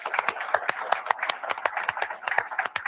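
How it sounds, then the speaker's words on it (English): A small audience at a live driver meeting claps for staff who handled all three terminals, sparse and uneven handclaps in close rhythm over a few seconds. "Let's give these folks a round of applause for getting us taken care of."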